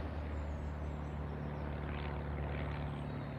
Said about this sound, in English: Could be an Icarus C-42, but I'm not completely sure